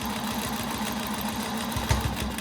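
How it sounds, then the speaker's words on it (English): A sewing machine stitches a straight line across a flying geese quilt with a steady, rapid mechanical chatter. The motor hums close by and loud, with no talking. "I'm going to turn this and sew down that straight line."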